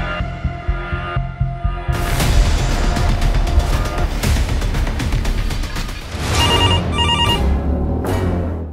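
A telephone ringing in a Punjab police story, with a loud electronic ring that repeats over a heavy, throbbing music bed.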